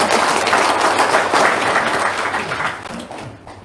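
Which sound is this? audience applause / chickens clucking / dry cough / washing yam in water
audience applause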